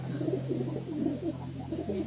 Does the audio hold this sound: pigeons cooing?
yes